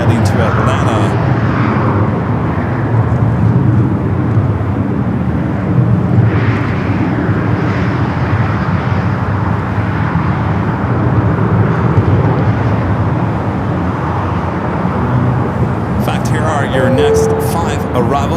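Delta Boeing 767 airliner at Los Angeles LAX airport, a broad steady jet engine roar holding loud for the whole stretch with a voice speaking over it.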